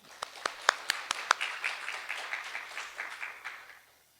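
A church congregation claps to welcome a missionary to the Sunday service, opening with a few sharp, separate hand claps that grow into softer, scattered applause before fading out.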